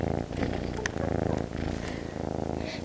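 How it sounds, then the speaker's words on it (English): A cat purrs close up in a steady, rhythmic rumble that runs through the whole stretch without pause, loud and near, with a brief higher sound mixed in partway through. "Can you hear him purring?"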